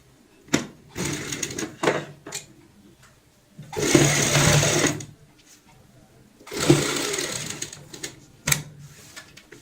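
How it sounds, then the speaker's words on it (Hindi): A sewing machine stitches the side seam of a heart-shaped cushion cover near its zipper, running in two longer mechanical bursts between several short, sharp stitch runs, close and clear. "अब हम साइड से सिलाई की शुरुआत करेंगे, यहाँ से इस पॉइंट से"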